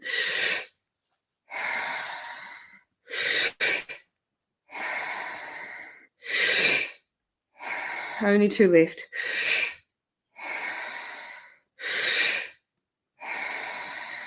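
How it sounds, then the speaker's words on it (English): Guided deep breathing: about ten slow, loud, airy breaths in and out, evenly spaced with pauses between, close to the microphone, with a short spoken count in the middle. "Lifting the head, breathe in and out."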